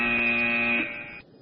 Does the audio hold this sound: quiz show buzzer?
yes